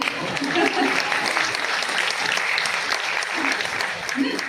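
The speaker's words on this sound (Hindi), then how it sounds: "इसी बात पे जोरदार तालियां" Loud, sustained audience applause from a seated crowd at a networking seminar, dense steady clapping throughout with some voices mixed in underneath.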